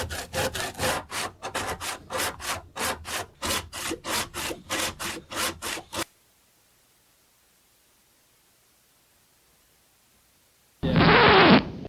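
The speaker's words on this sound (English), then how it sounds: "trying to cut this big piece of wood by hand" Rhythmic hand sawing through a big piece of oak, a steady run of back-and-forth rasping strokes, then silence, followed by a brief loud burst of noise at the end.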